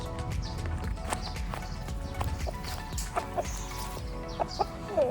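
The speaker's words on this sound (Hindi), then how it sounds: "टोटली यहाँ का पहाड़ी मुर्गा है, पहाड़ी मुर्गा भाई" A mountain rooster in a Kashmir village clucks and calls repeatedly amid outdoor farmyard noise, with a few sharper calls standing out near the end.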